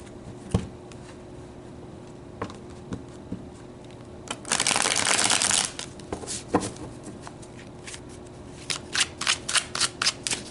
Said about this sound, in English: Let's pull some tarot.